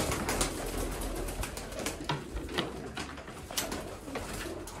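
Pigeons from a loft of around 120 birds coo in a steady low murmur, close and continuous, with rustling and brief clicks scattered throughout.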